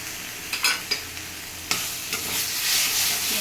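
Taro leaves with a little sugar frying in a pan, a few distinct scrapes of the spoon early on, then a steady soft sizzle building, close and with no voices.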